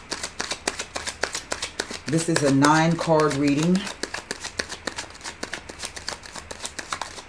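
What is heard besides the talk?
shuffling tarot cards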